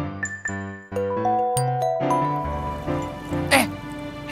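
A mobile phone rings with a bright, tinkling melodic ringtone of repeating chime notes that plays on steadily and fairly loud, with a short bright burst near the end.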